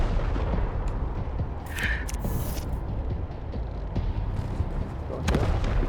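Gun fired by a character in Wasteland 3, with several booming shots over a constant low rumble, one bright ringing burst standing out in the middle and another sharp report near the end.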